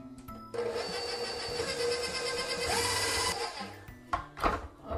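An electric mixer whirs steadily as it beats a large egg into cheesecake batter, a close mechanical drone for several seconds that shifts pitch midway, then stops with clattering handling sounds.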